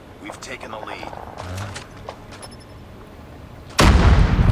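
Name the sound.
explosion in Call of Duty Mobile video game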